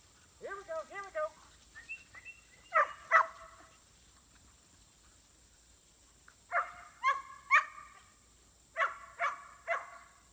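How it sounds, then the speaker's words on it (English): Several dogs bark outdoors in short bursts, a cluster of yips early, then spaced groups of sharp barks, moderately close in an open space with other dogs around. "There's half a dozen other dogs out here."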